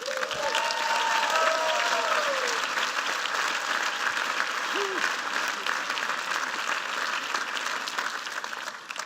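Warm audience applause rises in a large commencement crowd welcoming Harvard president Drew Gilpin Faust, steady dense clapping that holds strong for several seconds and then slowly thins, with faint voices briefly heard above it early on.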